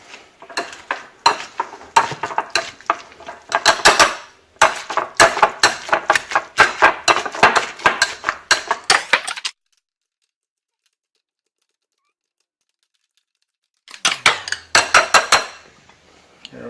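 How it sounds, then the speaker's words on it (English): A spoon or fork scrapes and clinks quickly against a bowl while mixing egg salad with jalapenos, mayo, mustard, bacon and avocado; busy rhythmic stirring breaks off into silence, then resumes briefly. "We got our jalapenos, mayo, mustard, bacon, avocado, and egg. We'll just come up and mix that up."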